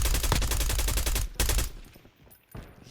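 Video game gunfire rattles in dense, rapid automatic bursts, loud and close, then cuts out before a final burst.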